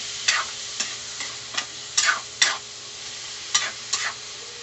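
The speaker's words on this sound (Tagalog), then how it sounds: "Gisa-gisa lang tayo guys." Food is sautéed in a pan: a soft, constant sizzle runs underneath while about nine brisk utensil scrapes and stirs come at uneven intervals, close up and with no voices.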